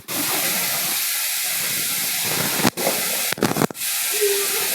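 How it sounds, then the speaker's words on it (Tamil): Village-style kulambu curry with field beans and brinjal boiling in a pot, a steady loud hiss and bubbling that runs throughout, broken by a few brief dropouts near the end. "குழம்பு நல்லா கொதிச்சு வந்துருச்சு."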